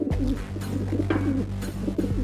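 Pigeons coo in a cartoon chase scene, a steady low warbling repeated over a constant low background hum, close and fairly loud throughout.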